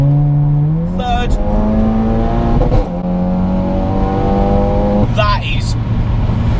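A Seat Leon Cupra 420 BHP hot hatch pulls hard through the gears, engine note climbing steeply then dropping at each quick upshift, loud from inside the cabin with a voice speaking over it.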